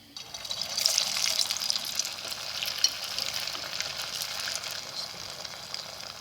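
Potato garlic rings fry in hot oil in a pan with a steady, close crackling sizzle that runs throughout without talk.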